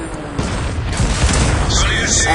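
Loud explosive booms and gunfire roar as a tank is destroyed in the World of Tanks video game, a dense, continuous battle din with a voice talking over it.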